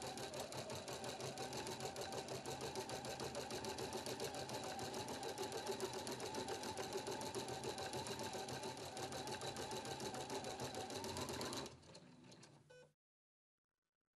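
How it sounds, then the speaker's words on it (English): A Husqvarna Viking Platinum Plus embroidery machine stitches a straight outline around an applique in a steady, fast mechanical patter for about twelve seconds, then winds down and stops, moderately quiet and alone. "A straight stitch outline around the applique section of the design is stitched."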